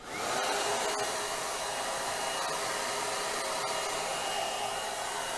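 A Trezoro ceramic tourmaline ionic hair dryer runs on its low setting, giving a loud, steady close-up whoosh of blowing air that holds constant throughout with no voices.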